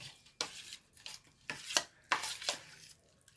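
A spoon scrapes and knocks against a pan while salted masala for masala puttu is stirred, giving a quiet series of irregular clinks and scrapes with short pauses between them.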